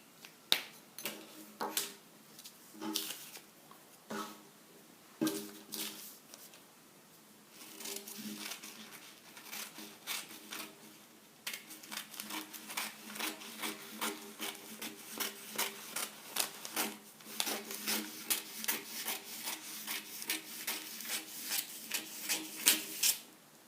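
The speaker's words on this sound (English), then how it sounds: "I'm going to cut it now" Scissors cut through blouse fabric during the making of an off-shoulder fitted top, a close series of crisp snipping and rustling cuts that start sparse and turn into a steady rhythmic run, with no talk.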